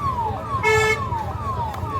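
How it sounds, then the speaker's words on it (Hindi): An ambulance siren wails through a farmers' protest crowd during a Punjab shutdown, its repeating falling sweeps fairly close and loud over a low rumble of traffic and crowd. "अभी एक एम्बुलेंस आ रही है"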